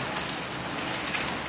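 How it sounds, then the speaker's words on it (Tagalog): Heavy rain pours in a dense, steady roar driven by strong typhoon winds in Kasiguran, Aurora, continuous and close with no voices over it. "Halos tangayin ang mga punong yan sa lakas ng hangin sa Kasiguran, Aurora na may kasabay ng malakas na ulan."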